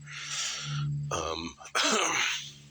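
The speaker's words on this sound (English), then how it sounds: "Still got a little bit of a cough" A couple of rough, throaty coughs close to the mic, with a short pause between bursts; no speech.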